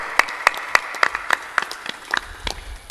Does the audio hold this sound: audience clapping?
yes